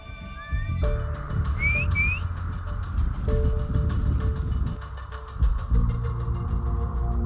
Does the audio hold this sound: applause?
no